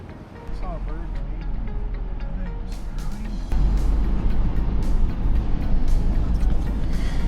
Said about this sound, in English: It's pretty cool, pretty fun to drive on the beach.